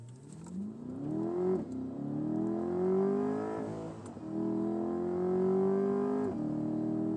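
A 2023 Chevrolet Corvette C8 Z51 with a Tremec 8-speed automatic, in sport mode, accelerates hard. The engine note climbs in pitch through several quick upshifts, loud and close throughout, with no talking.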